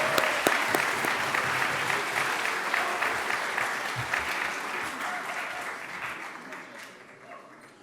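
Audience applause for award recipients at a 2019 Dr. Martin Luther King Jr. ceremony, a full room of sustained clapping that gradually fades out over several seconds.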